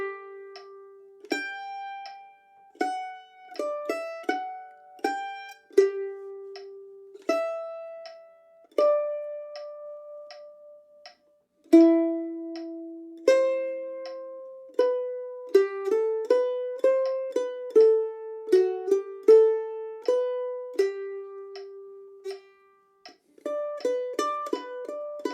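Mandolin alone picks a melody, bright plucked notes with tremolo on the held tones, played steadily and close for the whole stretch.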